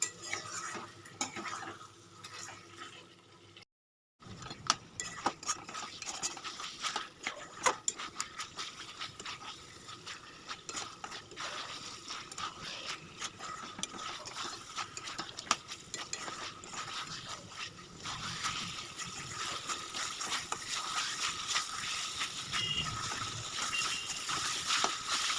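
Chicken korma being stir-fried in a pan, with steady scraping and clinking of a spatula against metal and a continuous sizzle running throughout, close and fairly loud, after a brief silent gap near the start.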